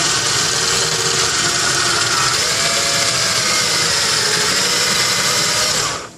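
A power drill bores a pocket hole through a pocket hole jig's sleeve down to the collar during repair of a Nintendo cabinet, giving a loud, steady whine that cuts off at the end.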